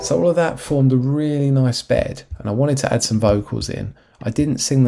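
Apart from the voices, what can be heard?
No everyday noise stands out behind the speech.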